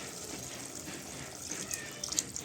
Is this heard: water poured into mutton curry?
yes